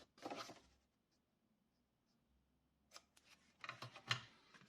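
Scissors snip paper glue tabs in short, close crisp cuts, a cluster at the start and several more near the end, with quiet pauses between.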